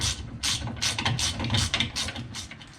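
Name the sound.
tightening 1/2 inch 13 mm nut with wrench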